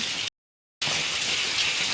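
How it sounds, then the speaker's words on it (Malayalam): Heavy rain falling outside: a steady, dense hiss that cuts out completely for about half a second, then resumes at the same even level. "ഇവിടെ നല്ല മഴയാണ്, പുറത്തിറങ്ങാൻ പറ്റുന്നില്ല"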